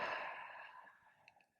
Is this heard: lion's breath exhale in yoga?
yes